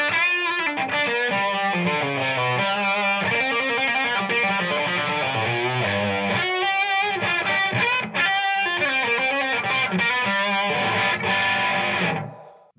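An electric guitar played through a tube screamer overdrive pedal into a Supro tube amp, a continuous driven riff of chords and single notes that stays loud throughout and cuts off at the very end.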